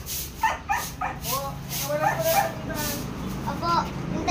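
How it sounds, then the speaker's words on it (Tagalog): A pet dog yips, barks and whimpers in short bursts close by, loud and repeated, mixed with people talking. "itong aso namin si Brownie ay malaki na."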